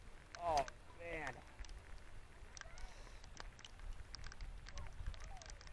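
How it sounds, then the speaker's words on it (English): Rain mixed with hail falls outdoors at a Legion baseball game, a steady broadband patter throughout, with a voice briefly heard near the start. "the rain's starting to pick up."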